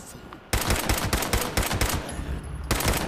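Rapid bursts of gunfire from a shooting fight against enemies in Fallout 76, loud repeated shots in quick strings after a brief quiet start, close and sustained for several seconds.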